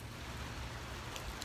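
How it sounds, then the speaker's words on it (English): Rainwater rushing steadily into a street storm drain after a couple of hours of rain in a Bristow neighborhood, a continuous close broadband wash and gurgle with no talking. "Water going straight down the storm drain."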